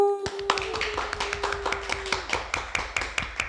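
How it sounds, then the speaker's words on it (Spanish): Audience applause and ovation for a guest, a Mexicali municipal councillor, at an LGBT rights talk event: a burst of steady clapping with sharp individual claps in a regular rhythm, fairly close, with a brief tone at the start. "Cuánto ovación, qué bárbaro"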